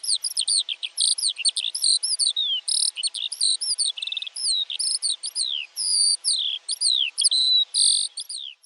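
A skylark sings in spring over fields and meadows, a bright, continuous stream of high, rapid trills and warbling phrases, loud and close, with brief gaps between bursts and nothing else audible.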